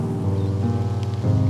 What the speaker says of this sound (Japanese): 果てしなく降り続くようにも思える 無数の雨粒たち。